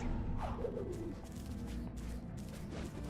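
A bird coos in the Ori and the Blind Forest video game, giving a few soft, low warbling calls over a steady ambient game background.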